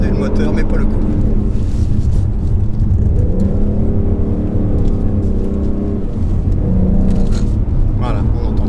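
A Ford Mustang GT V8 engine idles with a deep, steady rumble and constant vibration, close and loud, while someone talks over it.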